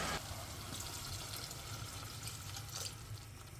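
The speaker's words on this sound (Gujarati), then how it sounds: "ચલો પાણી નાખી દઉં" Water is poured from a glass into a pot of gravy curry on the stove, making a steady splashing, gurgling rush that lasts several seconds at close range, with no voices.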